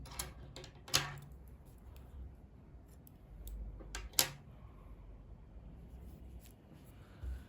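Scissors snip crochet yarn at close range, two sharp distinct cuts a few seconds apart with light rustling and small clicks between, quiet and without talk.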